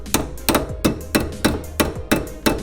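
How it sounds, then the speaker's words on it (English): Steady hammer strikes drive a brake line retainer clip onto its mount during a Nissan 240SX brake upgrade with Cadillac CTS-V brakes, six sharp metallic blows at an even half-second rhythm, close and loud with nothing else heard. "all we have to do is hammer that down onto its clip"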